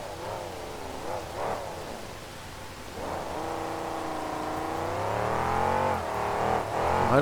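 A Cometic-bodied monster truck's engine revs loudly and steadily at a 2008 Oakland monster truck event, pitch climbing and swelling through sustained acceleration with no talk over it.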